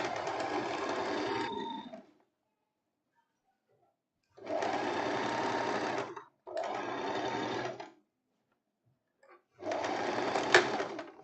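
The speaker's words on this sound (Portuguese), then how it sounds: "Agora a gente vai vir costurando exatamente essa parte da vira que eu falei com vocês do bolso" An electric sewing machine stitches a pocket facing on elastic-waist pants in close, loud bursts: four runs of steady whirring, each lasting about one to two seconds, separated by silent pauses.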